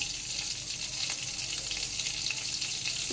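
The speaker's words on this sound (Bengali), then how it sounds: "এবার ওই তেলে ফোড়নের জন্য দিয়ে দিলাম শুকনো লঙ্কা" Dried red chillies crackle and sizzle in hot oil left over from frying fish, a steady close hiss of tempering with faint clinks, no talk.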